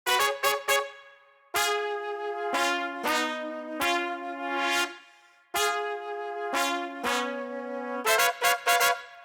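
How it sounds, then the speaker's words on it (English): Upper brass plays a 70s cop-show counter melody alongside flute, sustained bright chords broken by clusters of short punchy stabs at the start and end; loud, close ensemble with no talking. "we're going to take out the lower brass and just use the upper brass just to play that counter melody with the flute."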